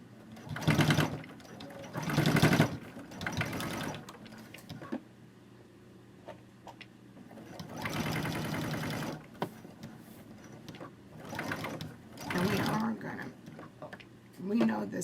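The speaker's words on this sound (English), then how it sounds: "Now I will backstitch here." Sewing machine backstitching while a zipper pocket is sewn for a handbag, short bursts of close mechanical stitching separated by quiet gaps, with a voice talking in between.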